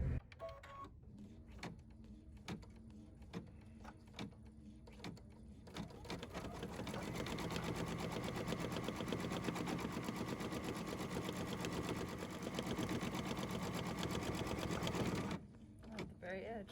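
A sewing machine stitches embroidery onto a pet stocking, starting as short intermittent bursts and then running as a steady, continuous mechanical whir for several seconds before stopping; soft talk is heard at the beginning.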